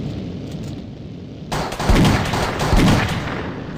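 Guns firing in the Mini Militia mobile game: a dense, loud burst of rapid gunfire erupts after a quieter stretch of game noise and keeps rattling to the end.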